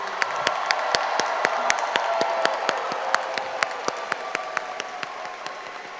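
Applause for the graduating Red Hawk class of 2025 at a Westwood High School commencement ceremony, with sharp individual claps standing out over a steady crowd patter and faint cheering for six seconds.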